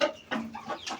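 Farmyard chickens kept beside young turkeys cluck in several short, separate bursts, close and fairly soft, with no voices.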